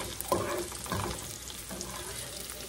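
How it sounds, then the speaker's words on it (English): Cooked meat is tossed into cooked noodles for a cheesy chicken broccoli casserole, giving soft wet stirring and clattering sounds, moderately close, with no talking. "take my meat up, and just toss it in with these noodles, with these cooked noodles"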